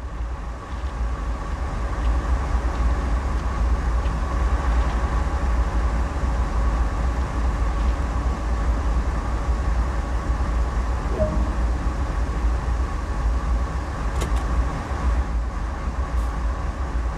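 Train cab ride in Train Sim World 2, a constant low rumbling drone of the locomotive with steady rolling noise and faint tonal hum, unbroken for the whole stretch.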